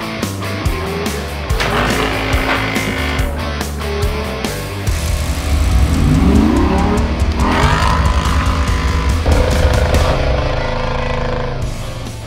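A Jeep engine runs loud and close at a demolition site, rumbling steadily with revving swells and some squealing, mixed with other noise throughout.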